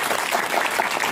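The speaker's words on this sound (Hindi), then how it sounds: "पर मैं चाहूंगा सभी साथियों के लिए जोरदार ताली बजानी चाहिए।" Audience applause at a business motivational gathering, steady broadband clapping from a crowd filling the whole short stretch at an even, moderate level.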